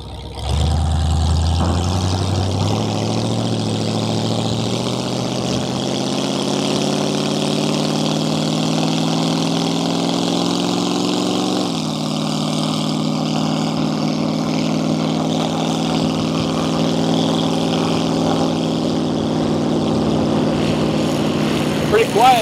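A 1932 Ford High-Boy Roadster engine runs steadily and loudly throughout, its drone rising in pitch as it accelerates, dipping briefly, then holding on, with a voice faintly present.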